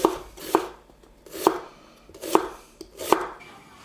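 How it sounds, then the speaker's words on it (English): Peeled onions are sliced into strips with a knife on a board, five crisp, evenly spaced cuts each ending in a solid thunk, close and clear with no talking. "what you want to do is you want to obviously peel them and then cut them into strips as well"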